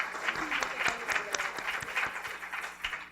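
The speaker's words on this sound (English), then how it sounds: "Let's give her a big applause, okay?" Audience applause for a woman introduced at a labor-themed keynote, a dense burst of steady clapping from a crowd, loud and sustained with no talking over it.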